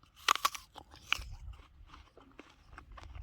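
A few loud, crisp crunches as teeth bite into a firm sweet apple, followed by quieter chewing close to the mic.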